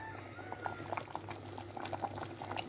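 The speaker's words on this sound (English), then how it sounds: "You can see boiling with lots of water." Beans simmer in a pot of plenty of water, the boil heard as soft, irregular bubbling and popping, close but quiet, with no voices.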